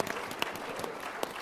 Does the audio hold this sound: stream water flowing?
no